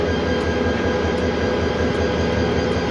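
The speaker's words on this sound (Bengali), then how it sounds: "এটাই হলো আমাদের আজকের লোকোমোটিভ।" Worn, poorly maintained diesel locomotive of the Egarosindur Provati Express near Dhaka, a steady loud rumbling engine drone with faint regular clicks over it, no voices.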